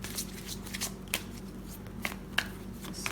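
Tarot cards being shuffled by hand, a steady papery riffling with a few sharper card snaps standing out above a low room hum, close and fairly quiet.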